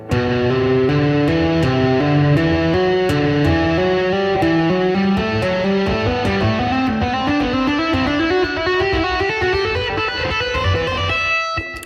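Fast electric guitar notes flow smoothly in a continuous legato run with tapped attacks, distorted tone, loud and alone.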